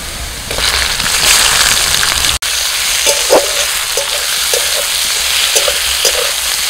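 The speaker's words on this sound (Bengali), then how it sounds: "আমি এর মধ্যে এবার চিংড়ি মাছটা দিয়ে দিচ্ছি।" Shrimp sizzle with fried onion in a hot wok, a dense steady frying hiss broken by a short gap and scattered stirring clinks and scrapes, close and without voices.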